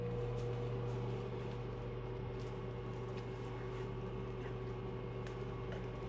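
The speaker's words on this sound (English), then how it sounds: "we're just gonna pop this in the microwave for like 30 seconds" Microwave oven running while heating a breakfast burrito, a steady low hum and drone that stays constant from start to finish, with faint clicks and no talking.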